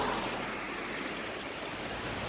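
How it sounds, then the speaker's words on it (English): Indian Creek floodwater running through trees along a rural road, a continuous broadband rush of flowing water with no other sounds on top. "Alright, again, we have water running."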